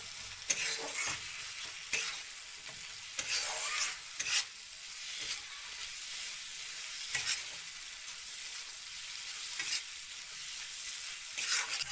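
Spice paste for a bhetki fish dish fries in a pan, producing a continuous, fairly quiet sizzle broken by occasional scraping stirs, with no talking.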